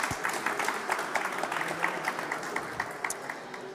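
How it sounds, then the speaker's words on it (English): A conference audience applauds a business presentation on AI strategy, a dense, steady patter of clapping from many hands that carries on evenly throughout. "Can we have a round of applause, please?"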